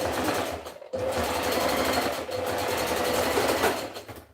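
A sewing machine stitches a half-inch dress seam, its loud, close, steady mechanical whir running continuously with two brief stops.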